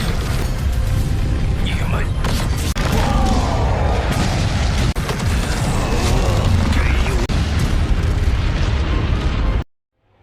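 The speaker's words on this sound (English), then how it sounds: "This self-destruct explosion unleashed a wave of energy so massive that it equaled the power of billions of supernova explosions," A massive self-destruct explosion from the animated series Swallowed Star roars as a loud, sustained, rumbling blast with crackling bursts and deep booms for about ten seconds, then cuts abruptly to silence.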